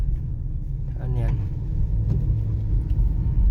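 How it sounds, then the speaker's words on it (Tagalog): A motorized tricycle rumbles in close by at a village wake, its low engine drone steady beneath people talking nearby. "Papasok pa yung tricycle."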